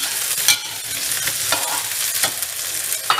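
Onions sizzle steadily in a hot pan of oil with whole spices, with occasional scrapes and stirs, loud and close, with no talking.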